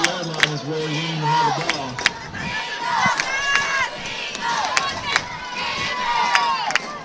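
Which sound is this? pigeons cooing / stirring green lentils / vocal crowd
vocal crowd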